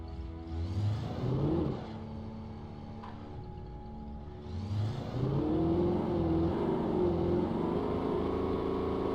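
A car engine in the video game Alan Wake, a steady droning motor that swells and revs twice with rising pitch, close and fairly loud, alone without talk.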